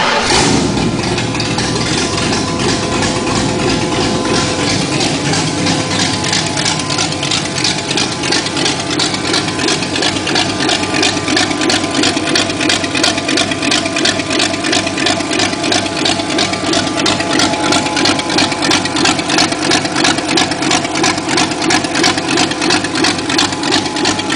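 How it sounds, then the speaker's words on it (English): A 1983 Ford Mustang GT V8 with a Lunati cam and no exhaust fitted cranks over and settles into a loud, steady, lumpy idle that runs on continuously, close up and with no talking. "I'm gonna go ahead and crank her up for you so you can hear the Lunati cam thump a little bit."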